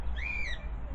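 A single short cockatiel squawk, a sharp rising-then-falling screech from an aviary full of cockatiels, heard fairly close over a low outdoor background rumble.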